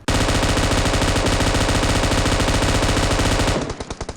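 A video game shootout fills the scene with rapid automatic gunfire, a loud unbroken stream of shots that runs for more than three seconds before ending in a few scattered final rounds.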